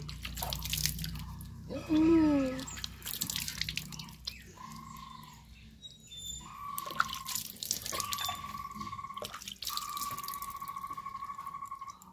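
Tap water runs and drips while someone washes their face at a sink, with quiet intermittent splashes and trickles in short bursts at close range.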